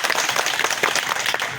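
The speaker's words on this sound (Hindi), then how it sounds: "समर्थन करते हैं तो दोनों हाथ खड़ा करके ताली बजाओ" An audience at a public rally claps their hands in support, a dense, steady burst of applause from many people close by.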